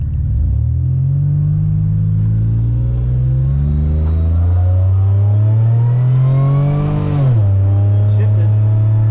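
Supercharged Pontiac Bonneville SSEi accelerating hard from close by with manual gear changes: a loud engine note climbs steadily, drops sharply at a shift, then pulls again, with people talking over it.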